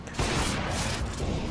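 Gunfire in Counter-Strike: Global Offensive played on a gaming laptop, a loud burst that opens with a sharp crack and trails into a rumbling echo, with no voices over it.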